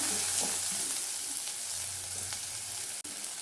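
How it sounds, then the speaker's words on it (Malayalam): Shallots sauté in a pan, giving a loud, steady frying hiss close by, with faint stirring scrapes and one brief knock toward the end. "നമുക്കതിലേക്ക് ചെറിയ ഉള്ളിയാണ് ചേർത്ത് കൊടുക്കുന്നത് നമുക്കൊന്ന് കുറച്ച് സമയം വഴറ്റിയെടുക്കാം"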